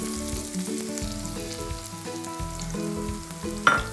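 Onion and garlic sizzle in a pan for a moussaka sauce, a steady close frying hiss with low tonal hum beneath and a brief sharp clatter near the end; no one speaks.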